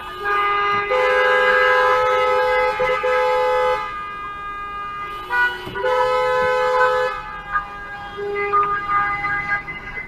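A car horn honks at a driver in traffic at a light in Maryland, two long sustained blasts followed by a shorter one, loud and close, with no talking.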